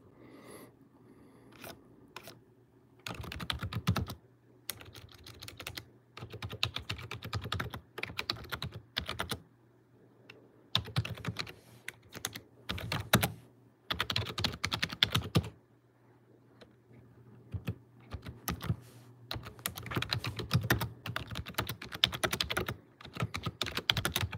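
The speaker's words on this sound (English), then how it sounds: "I'm just typing real quick" Typing on a computer keyboard comes in quick bursts of clicking keystrokes separated by short pauses, close and moderately loud, with no talk.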